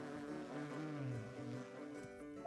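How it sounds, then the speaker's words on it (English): Bees buzz in a video game, a steady droning hum with layered harmonic tones that holds for a few seconds at a low, even level. "Those are some bees."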